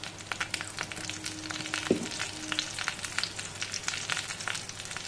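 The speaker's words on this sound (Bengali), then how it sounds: "মশলাটাকে ভালো করে আমি তেলে কষিয়ে নেব" Ground spices, coriander, cumin and chilli powder, fry in oil for Bengali shukto, giving a steady crackling sizzle with fine popping bursts and a brief stirring clatter midway, and no talk.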